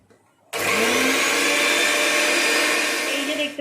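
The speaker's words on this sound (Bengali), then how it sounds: "মিক্সারের কৌটোর মধ্যে দিয়েছে ধনে পাতা আর কাঁচা লঙ্কা এটাকে বেটে নেবে" A mixer grinder runs on coriander leaves and green chillies, starting abruptly after a brief quiet moment and then whirring loudly and steadily to the end.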